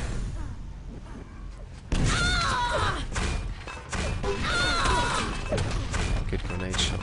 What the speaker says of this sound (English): Good grenade shot by Deborah.